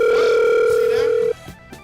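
A telephone dial tone on a morning radio show's studio phone line: a loud, steady, pure hum that holds for just over a second, then cuts off abruptly, leaving faint background noise.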